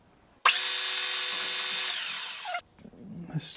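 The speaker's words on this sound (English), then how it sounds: "let's put a chamfer on the end here" A milling machine cuts a chamfer on the end of a metal part, a loud steady whine with a high machining tone lasting about two seconds before stopping abruptly, followed by faint handling noise.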